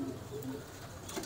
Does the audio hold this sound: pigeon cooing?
yes